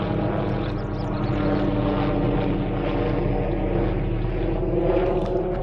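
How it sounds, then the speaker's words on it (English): Helicopter circling above a rural walking trail, producing a continuous dense engine and rotor drone at steady loudness throughout, without talking. "Where's that helicopter going, man?"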